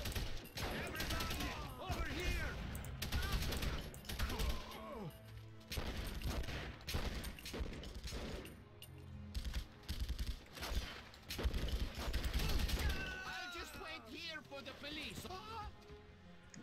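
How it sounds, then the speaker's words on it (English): Gunfire from the 2004 PC game The Punisher: bursts of shots and loud impacts, repeated throughout and mixed with in-game voices and music. "What was all that shooting?"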